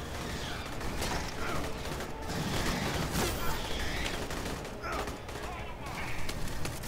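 Gunfire in the shooter game Aliens: Colonial Marines, dense fusillades and rapid machine-gun bursts with mechanical clatter, loud and continuous in a busy battle mix with a voice mixed underneath.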